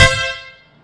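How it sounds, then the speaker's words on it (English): A Stebel Nautilus Compact Mini air horn blasts once, loud and close, a bright brassy tone that cuts off and rings down over about half a second. "we've got an air horn."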